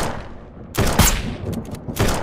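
Gunshots in the survival game SurrounDead, a few sharp cracks and short bursts of firing after a quiet lead-in, loud and close with no talk.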